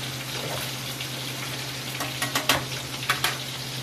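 Alumahan mackerel fries in a home kitchen pan with a steady broadband sizzle, a low hum underneath, and a few sharper pops and scrapes near the end.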